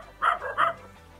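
A dog gives two short, close barks with a brief softer yelp between them, followed by quiet.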